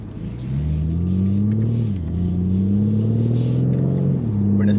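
A BMW M4 Competition G82 engine drones steadily in third gear at low road speed, a close, deep rumble rising gently, dipping briefly with a lift of the throttle, then pulling again.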